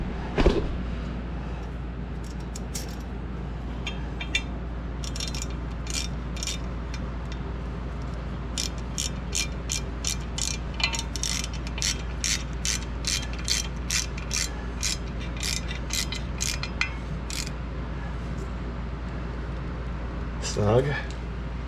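A ratchet tightening a small bolt during car brake work: a long run of rapid clicking pawl strokes in quick bursts, fairly close, with faint background hum and no speech.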